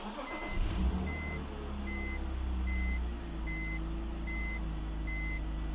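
A BMW E46 330i with a 3.0-litre inline-six idles steadily in a low, continuous hum, while a dashboard chime beeps at regular intervals above it and no one speaks.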